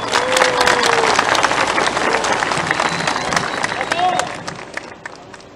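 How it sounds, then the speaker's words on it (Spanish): Audience applause at an inauguration ceremony for a lithium carbonate industrial plant, a loud sustained crowd clapping with crowd noise that gradually fades toward the end. "al hermano Edgar Mamani Quispe, a quien también lo vamos a saludar con un fuerte aplauso."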